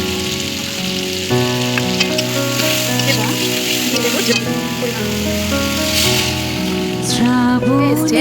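Cumin and coriander paste sizzling loudly in hot oil in a pan, a dense continuous fry with occasional stirring scrapes and clinks; no talking.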